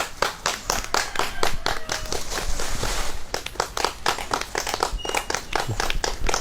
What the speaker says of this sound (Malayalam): എല്ലാവരും ഒന്ന് കൈ അടിക്കണം